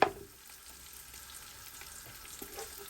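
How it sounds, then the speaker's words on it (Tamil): Raisins and cashews fry gently in oil over a low flame, a soft, steady sizzle with faint scattered crackles, quiet and continuous after a brief knock at the start, with no voices. "மெல்லிய தணலில் கருக விடாமல் இந்த ப்ளம்ஸ் ஊதுற அளவுக்கு இதை பொரிய விட்டு எடுப்போம்"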